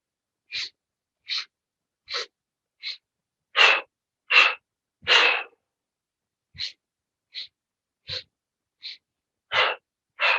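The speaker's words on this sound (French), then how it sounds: "On expire." Short forceful breaths pushed out during a qigong exercise session, about a dozen separate puffs at a regular pace, close and clear with silence between them.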